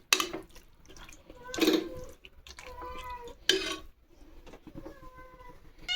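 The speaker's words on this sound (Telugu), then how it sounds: "ఇక్కడ మా క్యాట్స్ కూడా చూడండి" Pet cats meow several times in short, distinct calls amid quiet kitchen clatter while chicken biryani cooks in a pressure cooker nearby.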